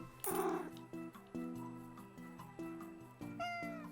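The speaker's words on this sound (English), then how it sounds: "I heard a cat." A cat meows loudly and close by beside a road, a few drawn-out cries at the start, followed by a steady tonal hum and background sounds with no talking.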